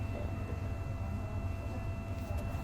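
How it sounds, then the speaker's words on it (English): The steady, low rumble of a moving train carriage at night in Dublin, Ireland, with a faint continuous whine and no talking. "train ride's alright."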